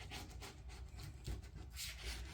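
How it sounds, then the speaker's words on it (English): A small hand tool scrapes along grooved material, working it down into the grooves with soft, steady rubbing strokes, close and quiet, with no talking. "I use this little tool and I just scrape that down to make sure I'm stuck good and proper in all those grooves"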